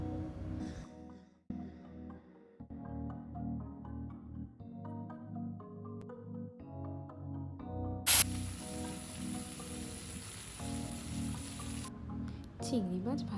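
Prawns fry in a pan, with a bright, hissing sizzle that rises for a few seconds in the middle. A steady tonal background and what sounds like a voice run throughout.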